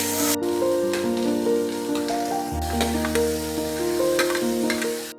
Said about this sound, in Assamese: পিঁয়াজ নহৰু আৰু জলকীয়া ইয়াতে ভাজি ল'ম